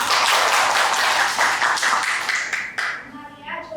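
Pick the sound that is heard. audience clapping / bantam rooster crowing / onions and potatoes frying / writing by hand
audience clapping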